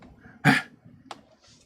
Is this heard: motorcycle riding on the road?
no